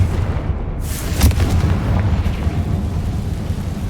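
Confringo blasting spell in Hogwarts Legacy: a deep booming explosion with a sharp crack near its start, followed by a long, heavy rumble that keeps rolling loudly to the end.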